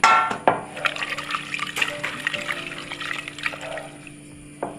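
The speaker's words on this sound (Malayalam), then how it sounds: "ഇനി പാകത്തിന് വെള്ളം ഒഴിച്ചു കൊടുക്കാം" Water poured into a cooking pot while making traditional Kerala moloshyam with jackfruit seeds, mango and drumstick; a close, uneven splashing trickle with a few metallic clinks against the pot, no talking.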